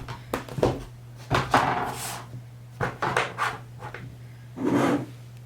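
A coloured pencil is sharpened up close in several short, scraping bursts separated by brief pauses, with a steady low hum running underneath.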